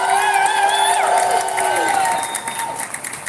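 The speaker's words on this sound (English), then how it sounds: "give yourself a round of applause" Rally crowd cheering and applauding at a solidarity demonstration outside the Milwaukee Federal Building, with loud whoops and sustained shouts early that fade into scattered claps and cries.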